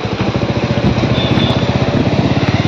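Bikers' motorcycles ride past on a road, a rapid pulsing engine rumble that holds steady and fairly close for a few seconds.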